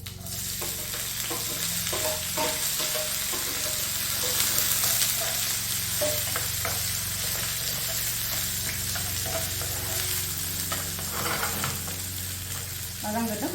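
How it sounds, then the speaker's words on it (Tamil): Mustard seeds, fennel, chopped onion and curry leaves temper in hot oil for sambar, producing a loud, dense, steady sizzle with frequent pops and crackles up close. "இதுக்குள்ளே இப்போ தாளிக்க கடுகு கொஞ்சம் போடுறேன் பெருஞ்சீரகம் இதுக்குள்ளே வெட்டி வச்ச வெங்காயம் கருவேப்பிலை"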